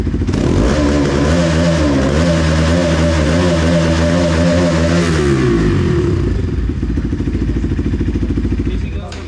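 A Bajaj Pulsar NS200 with an aftermarket exhaust revs hard and holds at high RPM in a loud, buzzing roar, then drops back to a rough, lumpy idle.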